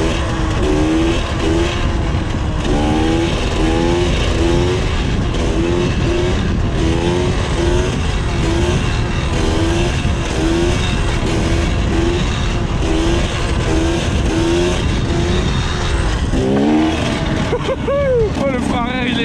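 An enduro motorcycle engine revs loudly and continuously, its pitch climbing and falling in repeated sweeps as the throttle opens and closes, with a sharper rising whine near the end.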